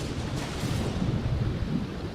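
Rain and a deep rolling rumble of thunder in The Sims 4, a dense low roar over steady rainfall, close and full throughout the short stretch.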